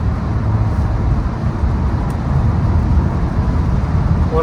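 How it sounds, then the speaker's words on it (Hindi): A Mercedes A-Class Limousine 4Matic cruising at about 150 km/h on a German Autobahn, with a steady, loud rumble of road and wind noise inside the cabin and no break. "और अभी हम 150 पे हैं और लिटरली भाई लग ही नहीं रहा है कि 150 पे गाड़ी चल रही है, क्रूज कर रही है।"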